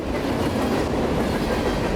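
A CSX freight train rolls past on the tracks in Central Florida, a loud, steady broadband rumble with faint rhythmic wheel clatter, continuous and close throughout.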